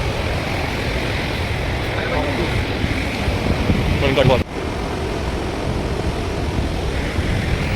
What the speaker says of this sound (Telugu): సక్సెస్ఫుల్ గా 400 మెట్లు కంప్లీట్ చేసుకొని ఫైనల్లీ కుంతాల వాటర్ ఫాల్స్ కి అయితే రీచ్ అయిపోయాము.